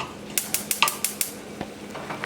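A spoon scrapes and clinks rhythmically against a pan while Jamaican curry shrimp cooks, about half a dozen sharp metallic taps in quick succession over a faint sizzle, close and clear.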